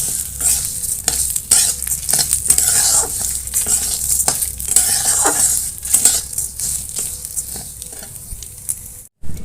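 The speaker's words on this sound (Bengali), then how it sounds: "মুগ ডালটা দেওয়ার পরে ভালো মতো ভেজে নেব।" Mung dal frying and being stirred in a pan for sabu khichuri: steady sizzling with repeated scraping strokes of a spoon against the pan, close and fairly loud, no voices, cutting off briefly near the end.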